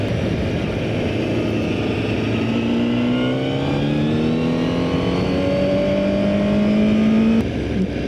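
A Honda CBR1000RR-R Fireblade superbike is ridden on a racetrack, its loud engine note climbing steadily in pitch through the revs, heard close over constant wind rush.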